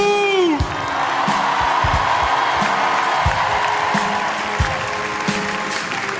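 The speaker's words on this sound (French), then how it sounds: "Donc applaudissez-vous et dans le chat aussi" Crowd at a Formula 4 race event applauds and cheers loudly and steadily, with whoops and shouts rising over continuous clapping, a few low thumps and a voice-like tone breaking through near the start.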